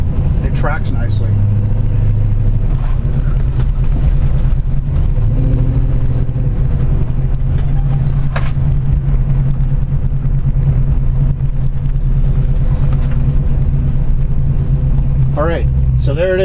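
A 1970 Chevrolet Chevelle Malibu Sport Coupe muscle car driving on a road, with a loud, steady low engine rumble and road noise throughout while someone talks over it.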